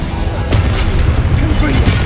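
Incendio fire spell erupting in the Hogwarts Legacy video game, a short burst of rough, booming flame noise that stays loud and dense throughout.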